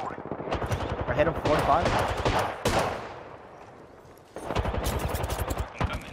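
Bursts of automatic gunfire crackle and rattle in a squad-based shooter game, with rapid volleys clustered at the start and again near the end while a player talks over them.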